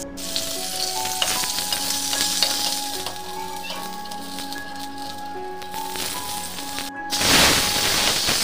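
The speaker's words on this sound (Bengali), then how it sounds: "তো এভাবে একে একে আমি সবগুলো মাছ ভেজে নিব লাল লাল করে।" Fish fry in hot oil in a pan with a steady, close crackling sizzle that holds for several seconds, then swells into a louder, hissing burst near the end.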